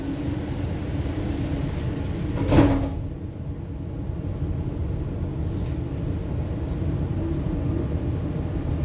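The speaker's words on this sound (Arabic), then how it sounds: "Doors closing." Dubai Metro train doors slide shut with a single soft thud against the steady rumble of the moving carriage interior.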